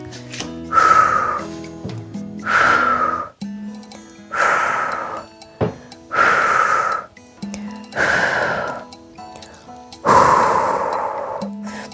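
Slow, deep breaths in and out during a thigh stretching routine, six long airy exhalations spaced evenly with quiet pauses between, close and clear over faint background music.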